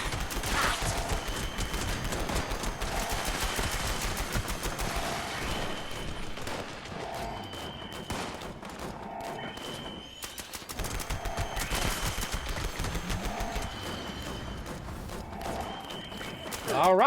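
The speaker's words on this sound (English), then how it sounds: "We'll just shoot it till we're out of bullets." Rapid bursts of weapon fire in Fallout 76 crackle through the scene, repeated volleys with brief pauses, loud and close over game sounds.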